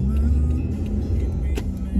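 Car creeping at about five miles per hour along a snowy road, a steady low engine hum and road rumble heard from inside the cabin, close and continuous.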